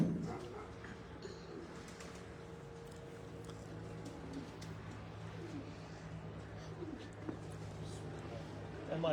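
Pigeons cooing at a rooftop pigeon loft, soft repeated coos amid a steady murmur of background noise and faint distant voices, fairly quiet throughout.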